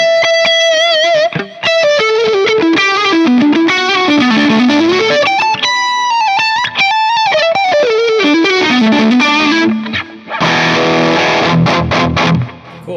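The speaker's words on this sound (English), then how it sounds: "now let's bring the delay in to see how it sounds." Distorted electric guitar through a Fractal Axe FX II XL with a gain patch and delay effect, playing a melodic line with echoing repeats trailing each note, loud and alone, ending in a burst of strummed chords.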